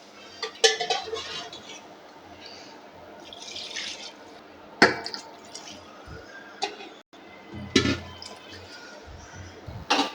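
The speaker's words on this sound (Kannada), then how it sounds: "4 ಗ್ಲಾಸ್ ನೀರು ಹಾಕ್ತಾ ಇದ್ದೇನೆ." Water is poured into rice in a cooking pot for a home-style veg pulao, with soft splashing and pouring over clattering pot and utensil knocks, fairly close, with no talk.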